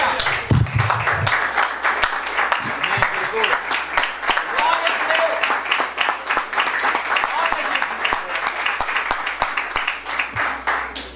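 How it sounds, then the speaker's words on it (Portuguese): A church congregation at a youth gathering applauds loudly and steadily for about eleven seconds, a dense wash of many hands clapping, with a few voices and cheers mixed in near the start. "Vamos aplaudir o Senhor por essa minha cura?"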